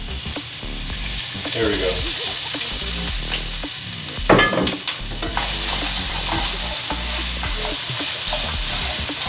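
Ginger sizzles steadily in olive oil in a pan, with a loud surge and spatter midway as it is stirred; a voice speaks briefly.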